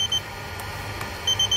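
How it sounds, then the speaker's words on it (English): A remote control pairing with a receiver box for a Luminar fascia gives a short series of high, clear electronic beeps at the start and end, with a quiet steady tone between. "you'll hear an audible beep to say it's connected"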